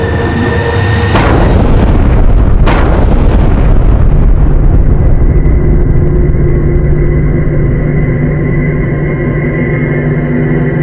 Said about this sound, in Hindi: इसका अर्थ है कि हम इस विस्फोट में मरने वाले थे।